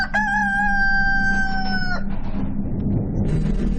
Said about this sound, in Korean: 정막을 깨는 한 수탉의 울음소리.